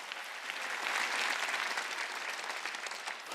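A church congregation applauds during a sermon, a steady wash of many hands clapping together that swells slightly midway and carries on evenly throughout, with no voices over it.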